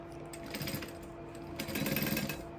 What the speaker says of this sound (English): And then we're gonna do just another basting stitch.